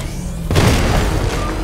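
An explosion bursts as the Batmobile comes under attack in the Batman Arkham Knight video game, a sudden loud boom that swells into a sustained rumbling roar.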